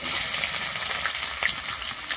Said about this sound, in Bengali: এরপরে আমি দিয়ে দিচ্ছি পেঁয়াজ